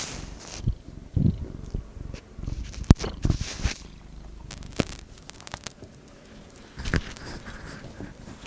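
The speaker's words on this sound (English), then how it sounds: "You wanna purr in, you purr into the mic?" A pet cat purrs close to the microphone at a cleared desk, a soft low rumble broken by scattered taps, rustles and brief clatters.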